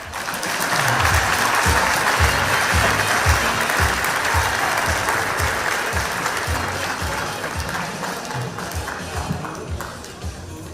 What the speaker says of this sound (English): one more big round of applause for Mr. Rabbi Gottesman